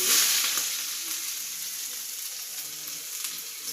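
Chopped onion fries in hot oil for chicken samosas, giving a bright, even sizzle that starts loudest and settles into a steady hiss nearby.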